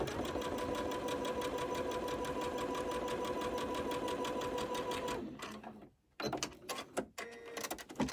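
A sewing machine stitches a quilt block, running in a fast steady rattling whir for several seconds, then stopping abruptly and giving way to a few short clicks and bursts of handling.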